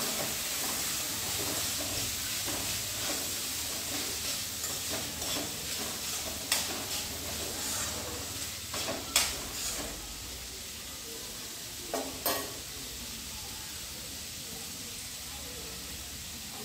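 Cooked bamboo shoots sizzle and hiss in a pan as they are stirred and fried for a Marathi bamboo shoot dish, with steady frying noise and occasional sharp scrapes and taps of a spoon, fairly quiet.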